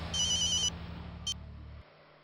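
Telephone ringback tone heard through a handset while a call is placed, a brief electronic trill followed by a shorter second burst, faint over a low hum.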